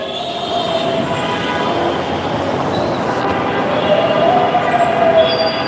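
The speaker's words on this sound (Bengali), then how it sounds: "আমি এই মুহূর্তে আছি মেট্রো রেল স্টেশনে" A metro rail train at a station in Dhaka, heard as a steady broadband rumble of rolling wheels with rising high squeals near the end, continuous and fairly loud throughout.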